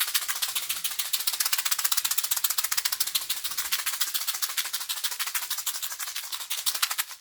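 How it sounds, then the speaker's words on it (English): A handheld rattle is shaken quickly and steadily for about seven seconds, a dense, bright, rapid shushing patter close to the ear and alone, with no voices. "And then I'm going to shake the rattle."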